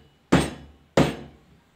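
A cake pan filled with vanilla cake batter is tapped twice against a counter to knock out air, two distinct, sharp knocks about two-thirds of a second apart, each ringing briefly before fading.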